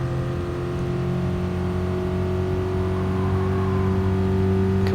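Abarth 500 engine in GT Sport, a steady loud drone held at high revs throughout, with a brief shift near the end, no voices.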